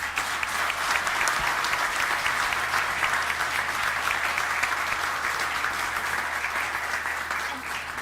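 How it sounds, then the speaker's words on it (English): Sustained audience applause for students at an academies celebration, steady dense clapping from a large crowd that carries evenly throughout and eases slightly at the end. "Let's have a round of applause for all of their efforts."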